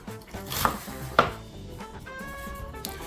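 A knife chops green onions on a board for fried rice, two sharp cutting strikes close by, followed by lighter scraping and faint clinks, with no voices.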